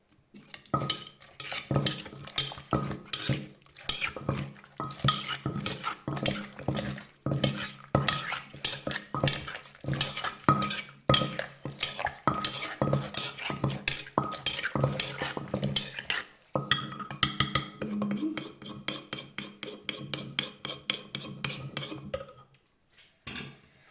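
A pestle pounds spicy Thai shrimp salad in a mortar, a dense rhythmic run of sharp close knocks and clatter that goes on steadily for over twenty seconds with no talking.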